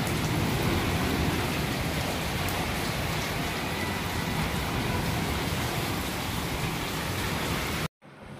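Steady, dense rain pours down in the early hours before dawn, a loud unbroken wash of drops hitting surfaces that stops abruptly near the end.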